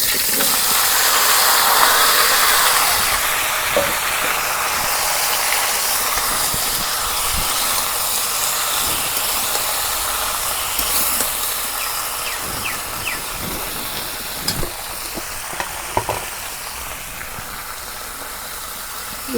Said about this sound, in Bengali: এখন বাগার দিই।